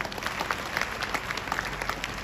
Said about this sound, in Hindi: आपके लिए एक बार जोरदार तालियां हो जाए।